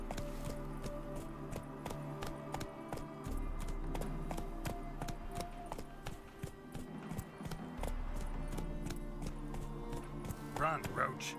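Roach, a horse in The Witcher 3 video game, gallops with a steady, rapid clip-clop of hooves that runs throughout, loud and close over a low hum of game ambience.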